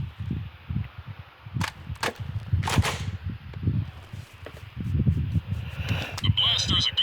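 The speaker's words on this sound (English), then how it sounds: "The blaster is a good all-around choice with a nice rate of fire" A blaster fires in the Jak II video game, with several sharp zapping shots in quick succession over low rumbling game ambience, then bright energy hums toward the end.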